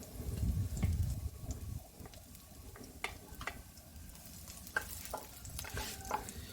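Garlic frying in cooking oil in a pan, a faint, quiet sizzle with scattered clinks and scrapes of stirring, and a low rumble in the first couple of seconds.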